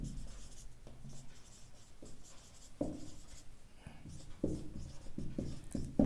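A pen or marker writing an equation by hand gives soft, close scratching strokes, with short taps and pauses between symbols and a steady quiet rhythm throughout.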